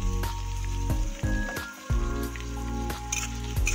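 Onions and chilies dropped into hot oil, a steady sizzle and crackle with scattered pops and clinks of a utensil against the pan, close and moderately loud with no talking.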